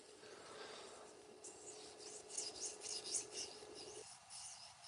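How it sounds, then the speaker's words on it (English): A knife blade is drawn across a 3000 grit sharpening stone to work off the burr, making a faint, soft rasping scrape in short strokes that starts after a quiet moment. "We are just getting our burr worked off of here now."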